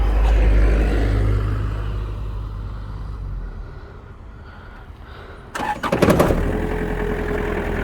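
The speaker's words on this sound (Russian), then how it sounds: "Тракторок давайте заведем." A Kubota GT-3 20 hp four-cylinder small tractor engine cranks and catches after a quiet stretch, then keeps running loud and close with a steady mechanical rumble.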